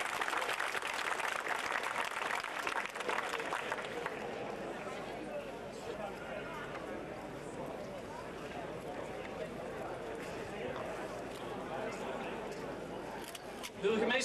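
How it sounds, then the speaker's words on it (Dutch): Sustained applause from a large crowd at a Dutch civic tableau event, dense steady clapping lasting about fourteen seconds with voices mixed in. "Dus daar een extra applaus voor."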